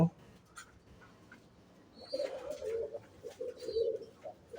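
Pigeons coo in soft, throaty bursts in a loft in the second half, fairly close, after a quieter stretch of faint background sounds.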